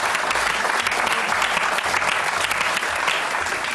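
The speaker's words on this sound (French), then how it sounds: "On peut l'applaudir malgré tout." Dense, steady applause from a studio audience at a French comedy variety show, many hands clapping at once in a continuous roar with no pauses and no talking.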